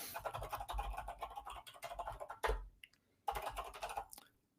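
Steady clatter of fingers typing on a computer keyboard, quiet and close, in quick uneven bursts with two brief pauses.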